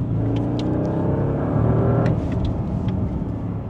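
A 2025 Bentley Flying Spur accelerates hard, its engine note loud and close and rising steadily through the revs for nearly four seconds, with no voices over it.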